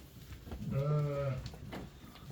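A single ewe bleats once at a sheep sale, a clear wavering call up close against a low background murmur.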